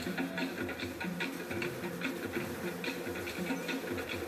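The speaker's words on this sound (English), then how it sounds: "So my bees are desperately looking for food" Honey bees buzz steadily around a whole bag of sugar, a dense, continuous droning swarm close by with small crackling flickers through it and no talking.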